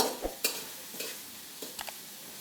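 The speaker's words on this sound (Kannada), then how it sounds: "ಈಗ ಇಲ್ಲಿ ಮಟ್ಟ ನಾವು ಎಣ್ಣೆ ಕಾಯಿಸಿದ್ವಿ, ಸಾಸಿವೆ ಜೀರಿಗೆ ಹಾಕಿದ್ವಿ, ಕರಿಬೇವು ಹಾಕಿದ್ವಿ" Tempering of mustard seeds, cumin and curry leaves being stirred in hot oil, a quiet sizzle with a few soft scraping strokes and small clinks of the spoon against the pan.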